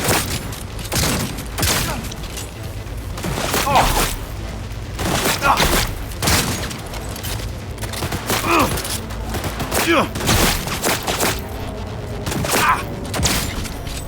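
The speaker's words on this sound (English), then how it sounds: "Opening fire!" Dense, sustained police shootout gunfire in Cyberpunk 2077: rapid overlapping shots and bursts crackle almost without pause for the whole stretch, loud and close, with occasional heavier booms.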